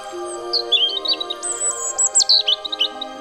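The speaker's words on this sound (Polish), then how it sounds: "drzewny śpiew rudzika jest zapowiedzią jej nadejścia" A European robin sings in a spruce forest in the Bieszczady mountains in spring, pouring out a close, clear string of high, warbling and trilling phrases with brief pauses between them, with no other sounds intruding.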